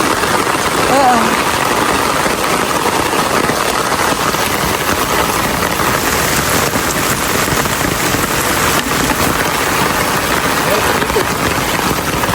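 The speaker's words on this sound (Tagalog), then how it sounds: "Sa lakas po ng ulan ay napuno agad yung drum." Heavy rain pours steadily into a drum outdoors near a fish pond, a loud, dense, unbroken wash that lasts throughout with a low engine-like rumble beneath it.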